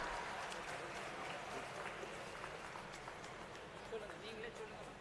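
Audience applause at an Indian Bank loan-distribution ceremony in Puducherry, a steady dense clapping from a crowd lasting throughout, moderately distant with some voices mixed in.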